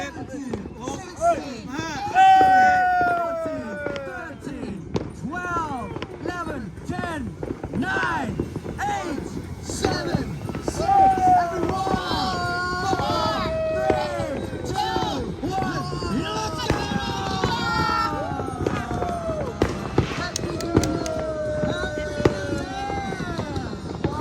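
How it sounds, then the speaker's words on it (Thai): Dense, crackling New Year's firework bursts pop all around, some with whistling rises and falls, under steady crowd noise and voices. "รอบตัวเรามีแต่เสียงพลุอยู่รอบตัวฮะ"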